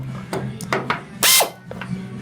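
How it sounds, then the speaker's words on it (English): A right-angle air drill gives a short, loud hissing burst of drilling during a 1943 GPW Jeep restoration, surrounded by scattered clicks and mechanical knocks close by. "luckily we have this right angle drill, which is like an air drill"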